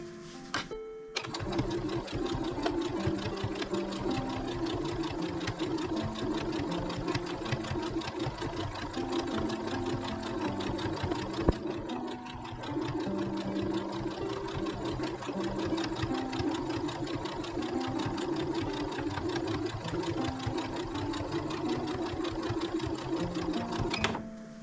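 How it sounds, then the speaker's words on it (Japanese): A sewing machine stitches along the edge of a fabric zipper pouch, running in a fast, even mechanical chatter at close range, with one brief pause midway before resuming. "端ミシンかけます。"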